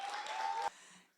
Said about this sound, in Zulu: Ngicela kudume ihlombe.